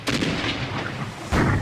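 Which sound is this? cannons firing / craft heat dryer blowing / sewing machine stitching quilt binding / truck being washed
cannons firing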